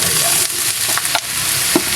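Sliced chayote and carrots sizzle as they are sautéed with garlic and onion, a steady hiss of frying with a few scraping stirs of the spatula in the pan.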